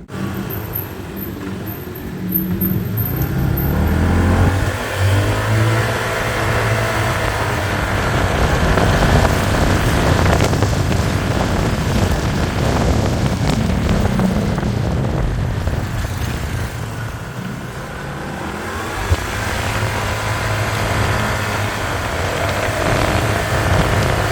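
Motorbike ride through busy Bangkok traffic on a Saturday evening, with a steady engine drone and passing vehicle noise holding loud and constant throughout, no talk.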